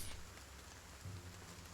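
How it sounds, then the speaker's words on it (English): Rain ambience from the Battle Brothers video game: a steady, faint hiss of falling rain that fills the background evenly and stays alone, with no voices. "Oh, nice rain ASMR."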